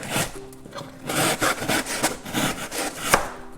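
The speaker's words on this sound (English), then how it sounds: "cuts through the cardboard quite well." An ESEE-3 knife saws back and forth through triple-ply cardboard, giving a close series of rough, rasping strokes in an irregular rhythm.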